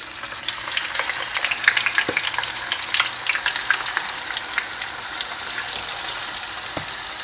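Chopped ribs in barbecue sauce with a brown sugar and spice glaze sizzle loudly and steadily as they are stirred, a dense close frying crackle with a few utensil knocks and no talk.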